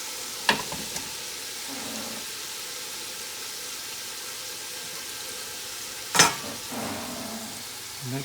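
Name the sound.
food browning and frying in a hot pan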